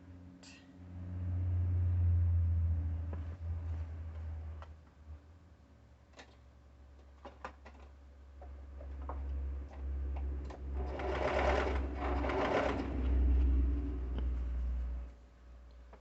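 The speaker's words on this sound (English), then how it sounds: "place them right sides together and sew around the front" A sewing machine stitches the front edges of a pullover's hood pieces together, running in two long, steady whirring stretches separated by a brief pause with light ticks, moderately close and alone.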